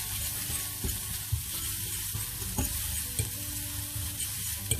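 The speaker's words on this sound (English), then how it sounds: "Give it a quick 5-second stir so that it oozes out the flavor" Coriander powder sizzles in a pan while being stirred for spinach palak paneer, a steady frying hiss with occasional scraping knocks of the spoon, close and alone.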